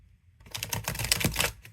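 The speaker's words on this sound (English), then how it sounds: "I'm feeling awkward shuffling these cards" Tarot cards shuffled by hand in an awkward overhand style, producing a short, close flurry of dry papery slaps and flicks after a brief silence.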